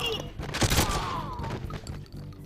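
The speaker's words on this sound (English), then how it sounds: "Automatic shotgun, the best idea ever." An automatic shotgun in a first-person shooter fires a few heavy booming blasts in quick succession up close, with a trailing clatter and ringing decay, no talking.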